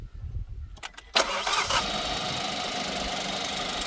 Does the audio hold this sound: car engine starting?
yes